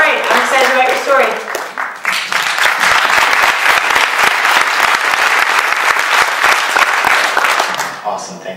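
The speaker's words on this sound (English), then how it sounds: "thanks for the round of applause" A round of applause from the audience at a storytelling event in Arizona, loud and dense clapping filling the room for about eight seconds, with a voice briefly heard at the start and near the end.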